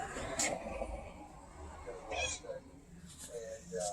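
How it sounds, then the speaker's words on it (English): Domestic cats meowing indoors while birds play on a television, short mews at moderate distance under faint household background and some muffled speech. "I heard a meow."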